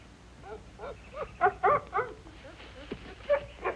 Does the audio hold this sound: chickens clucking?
no